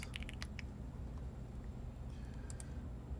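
Quick clicks of typing on a computer keyboard come in short bursts near the start and again around two and a half seconds, set over a steady low room hum with no talking.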